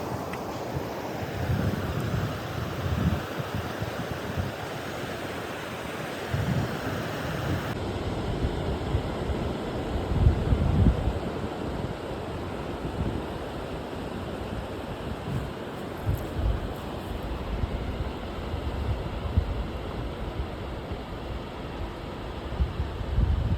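Sea waves wash onto the beach at Mandarmoni, a steady roaring surge of surf mixed with gusty wind buffeting the microphone, rising and falling over the stretch.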